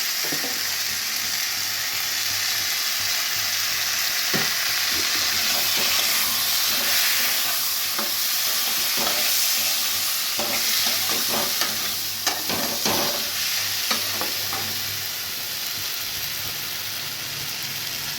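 Ground spice paste fries in a pan for a sweet potato curry that also has peanuts, giving a constant loud sizzle and hiss with repeated scraping stir strokes through the middle, close up and without speech.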